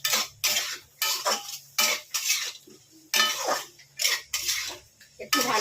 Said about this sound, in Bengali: দিয়ে আমি ভালো করে আবার কষে নিচ্ছি